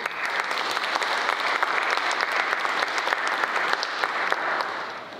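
Steady audience applause fills a convocation lecture hall, a dense wash of clapping hands that holds evenly for several seconds before easing slightly at the end.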